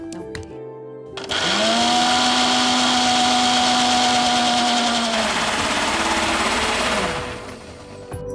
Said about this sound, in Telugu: ఇప్పుడు మిక్సీ పట్టేసుకుందాం.